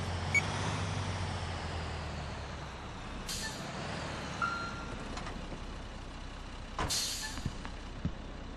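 A heavy fire engine arrives on scene at the docks in GTA IV with an LCPDFR mod. Its diesel engine idles with a low rumble, and two sharp air-brake hisses cut through, followed by faint beeps.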